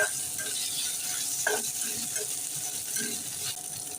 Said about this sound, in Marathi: अर्धा चमचा आलं लसूण पेस्ट करायचे छान परतून घ्यायची आहे